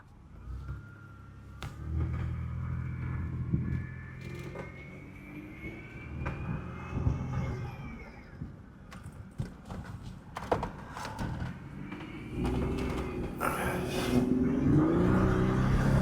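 A 2003 Chevy Blazer accelerating with a transmission kickdown: engine note climbing in pitch from inside the cabin, moderate and rising, with road noise and some clunks and knocks along the way.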